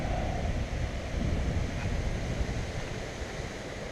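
Water pours steadily over a small dam on a river in Algonquin, making a continuous broad rushing roar, fairly close and unbroken, mixed with some wind noise.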